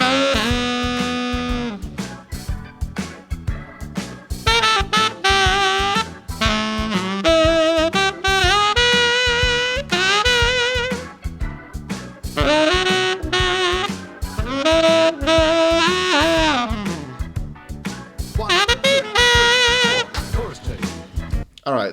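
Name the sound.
blues shuffle example solo played on horn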